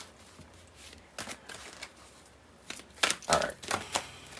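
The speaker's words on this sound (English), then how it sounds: "Let's give it a real good shuffle" Tarot cards being shuffled by hand, soft riffling and tapping bursts close by at low volume, growing busier toward the end.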